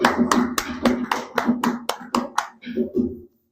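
A church congregation claps in steady unison at a festive worship service, about a dozen sharp, evenly spaced claps with voices underneath, ending abruptly.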